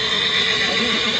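A horse whinnies loudly and continuously at a busy livestock market in Sokuluk, the call close and sustained over a dense crowd-like background.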